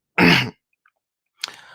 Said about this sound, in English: I've been smoking, coughing.